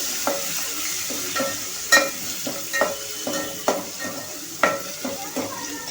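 Chillies, garlic and tomatoes frying in a pan for dal, a soft continuous sizzle broken by repeated clinks and scrapes of a spoon stirring, close and moderately quiet.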